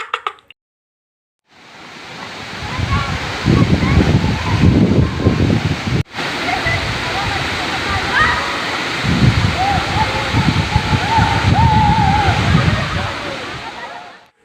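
Palale Falls in Malinao, Albay roars as a loud, continuous rush of falling and splashing water close by, with people talking over it.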